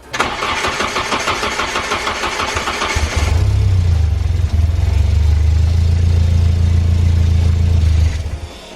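Volvo 340 car engine being started after a fuel pressure regulator fitting, with the starter cranking for about three seconds before the engine catches and settles into a loud, steady idle close by.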